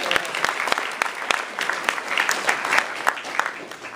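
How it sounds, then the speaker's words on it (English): Audience applause during a keynote at the State of the Map US 2012 OpenStreetMap conference: a moderately sized crowd clapping steadily with distinct individual claps standing out, sustained evenly for the whole stretch. "Come on, let's clap, please."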